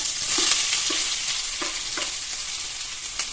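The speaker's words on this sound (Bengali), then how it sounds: "তেলখিনি মই গৰম হ'বলৈ দিছোঁ তাত দি দিছোঁ পাঁচফোৰণ এচামুচ তাৰপিছত দিছোঁ পিঁয়াজ" Sliced onions frying in hot oil with panch phoron for a yogurt fish curry give a steady, close sizzle, with soft stirring taps scattered throughout.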